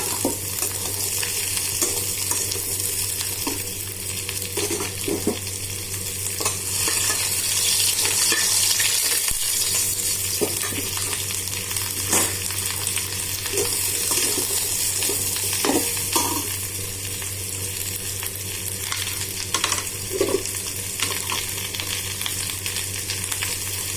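Jackfruit fries in a pan with onion, tomato, ginger and garlic, giving a steady sizzle broken by scattered stirring scrapes and clinks, with water running faintly in the background and no speech.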